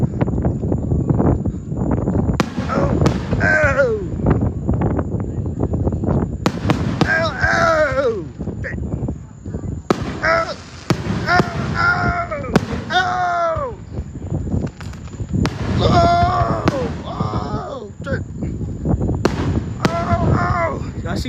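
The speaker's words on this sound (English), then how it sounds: "Y'all ain't fucking with our fireworks, chat." Fourth of July fireworks boom and crackle in repeated bursts over several seconds, with wind buffeting the microphone while people talk excitedly throughout.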